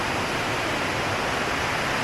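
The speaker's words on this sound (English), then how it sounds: "Some more waterfall along the way." A waterfall along a steep, rocky hiking trail, heard as a loud, dense, unbroken roar of falling water close by, steady throughout with no talk over it.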